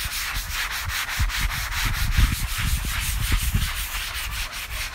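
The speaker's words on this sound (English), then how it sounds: "So the first thing I'm gonna do is just wet my sponge and just scrub." A wet sponge scrubs old seasoning off a griddle in quick, rhythmic back-and-forth strokes, a close, loud rasping rub with no talking.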